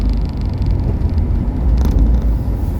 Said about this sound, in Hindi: यहाँ पे लग रहा है भाई ट्रैफिक